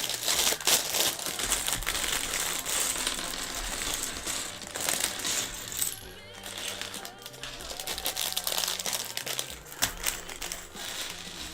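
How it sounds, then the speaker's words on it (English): A plastic parts bag from a LEGO Ninjago set crinkles and rustles continuously, with scattered sharp clicks of small plastic bricks shifting inside, loud and close throughout. "So bag 4, another plastic bag."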